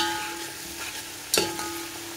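Onions and garlic frying in a pot of chicken pulao, a steady close sizzle with a faint hum underneath and one brief clatter of stirring near the end.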